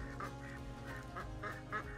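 Ducks and chickens on a homestead farm, repeated honking quacks in an uneven rhythm over a steady low background hum.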